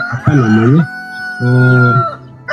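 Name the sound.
chickens clucking and crowing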